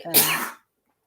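A single sharp sneeze, close and loud, followed by silence.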